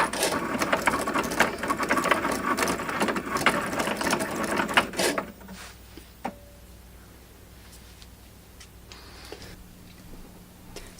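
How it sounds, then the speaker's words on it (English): Cricut Maker cutting an iron-on vinyl design for a St. Patrick's Day t-shirt, a rapid mechanical whir with fast ticking for about five seconds, then it stops, leaving a quiet room with faint clicks. "So Cricut did its thing and cut out Zero Lux Given with the clovers on it."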